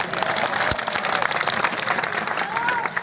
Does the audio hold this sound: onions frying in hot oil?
no